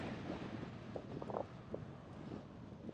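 A headwind roars across the microphone of a cyclist riding a long coastal road near Bangkok, a low steady rumble with small gusty swells and no other sounds.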